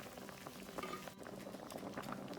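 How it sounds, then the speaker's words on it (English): Tomato sauce for homemade Bolognese boiling in a pot, a continuous dense bubbling and popping at moderate volume, heard up close with no talk. "Our tomato sauce has started boiling now"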